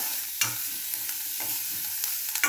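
Crushed garlic sautéing in a pan for a black nightshade greens soup, a constant close sizzle with repeated scraping stirs of a spoon across the pan.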